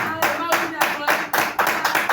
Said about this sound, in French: Et à travers les applaudissements, nous allons libérer la chair à la servante de Dieu.